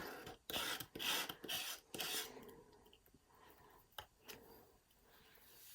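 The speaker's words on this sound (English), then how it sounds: "So let's just scrape that off." Paint being scraped off a painting surface with a palette knife, several loud rasping strokes in quick succession followed by quieter scrapes and a light tap.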